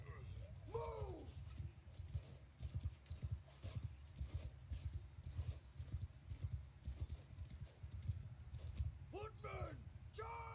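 Cavalry horses gallop across a battlefield in Mount & Blade II: Bannerlord, a steady rumble of hooves that runs throughout, mixed with shouting voices and occasional whinny-like cries.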